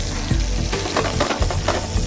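Seafood frying in butter and oil in a pan, a steady loud sizzle with crackling pops throughout, close and alone.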